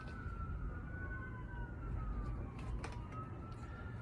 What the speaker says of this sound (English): There's sirens going by right now